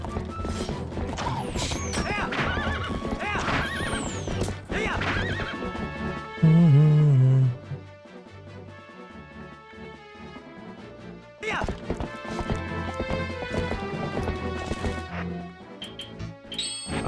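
A horse whinnies loudly and hooves clip-clop in The Legend of Zelda: Twilight Princess on GameCube, with crashing hits, game music and sound effects layered around the neighing.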